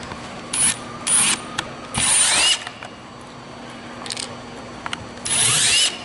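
A power screwdriver backs out number two Phillips screws while disassembling an NR1890DR AirSpring unit, several short whirring bursts with pauses between, close and loud against a quiet background.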